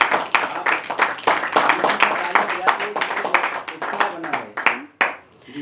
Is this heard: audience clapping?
yes